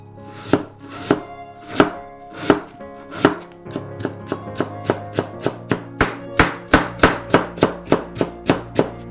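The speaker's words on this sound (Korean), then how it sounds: "이거 무는 많이 넣지 말고 조금만 채 썰어서." A knife chops radish into thin strips on a cutting board, a run of sharp, evenly spaced close thuds that starts slower and settles into a quick steady rhythm, with no talking.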